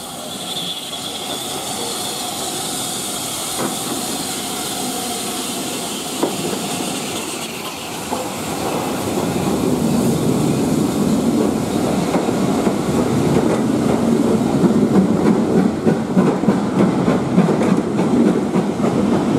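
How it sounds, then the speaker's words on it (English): Steam locomotive 73069 runs through a heritage railway station pulling a passenger train, a loud steady rumble and hiss that builds as the carriages roll past with rhythmic clickety-clack. "73069 heads through the station with a passenger train."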